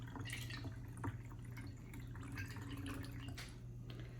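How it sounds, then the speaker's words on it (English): Water is poured through a funnel into a bottle, giving a quiet, close trickle with small drips and splashes over a low steady hum. "Then we're gonna add some water. We're gonna fill it pretty much the rest of the way"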